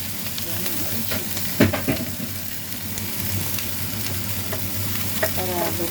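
Shrimp sizzle and fry in a pan while being stirred. A steady loud crackle runs throughout, broken by a few scraping clanks of the utensil, and no one speaks.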